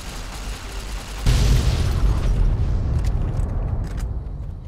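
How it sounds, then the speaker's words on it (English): Nuclear explosion in the video game Fallout New Vegas: a sudden, deep, booming blast that rolls on as a long rumbling roar, slowly fading with a few faint crackles near the end. "Oh, there's a nuke."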